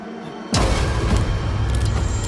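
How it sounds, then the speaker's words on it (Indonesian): A sudden loud boom hits above a prayer room after a quiet moment, followed by a sustained rumbling roar that lingers and fades slowly. "Bagas dan Rini terkejut mendengar suara dentuman di atas musola itu."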